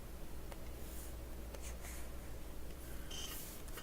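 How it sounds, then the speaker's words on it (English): Erasing writing on a board during a lecture, a series of faint scratchy rubbing strokes in short bursts over a low room hum, with no talk. "let me erase this"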